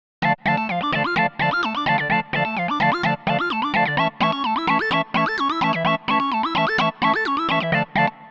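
A fast synthesizer arpeggio pulses in a steady repeating pattern over a sustained pad, with brief gaps between phrases, loud and close.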